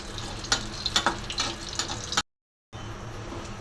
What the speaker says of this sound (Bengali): ডিম ভাজা কড়াইয়ের মধ্যেই আমি শুকনো মরিচ ভেজে নিচ্ছি।